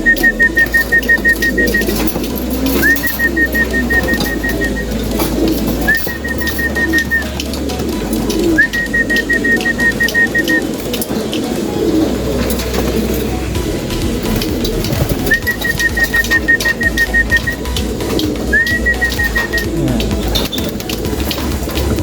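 Newly settled racing pigeons coo outdoors during stick-trap training, with repeated short calls recurring every few seconds over a steady background hum.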